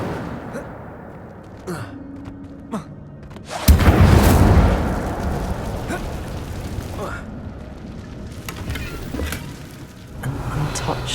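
Incendio fire spell cast in Hogwarts Legacy, a sudden loud whooshing roar of flame that holds for a few seconds and slowly fades, with game noises and a voice around it.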